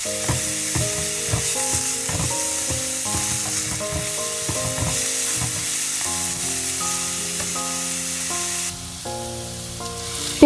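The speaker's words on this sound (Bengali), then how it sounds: "প্যানের তেলটা গরম হয়ে যাওয়ার পরে এই মিক্সচারটা দিয়ে আমি ভালো করে ব্রাউন কালার করে ভেজে নিব" Grated onion and green chili mixture frying in hot oil in a pan for beef liver curry, a steady loud sizzle with stirring scrapes and clinks running throughout, no talking.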